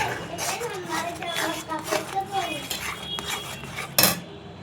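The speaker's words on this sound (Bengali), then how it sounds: "এটা একদম নাড়তে হবে যতক্ষণ না ড্রাই হচ্ছে।" A spoon stirring paste in a pan until it dries, the metal clinking and scraping in repeated strokes with a sharp clatter near the end, while someone talks over it.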